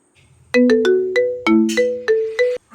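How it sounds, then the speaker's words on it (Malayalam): A phone ringtone plays a loud, bright electronic melody of repeated tones, clear and close, with no voices. "ഫോൺ ബെല്ലടിക്കണ്ടല്ലോ"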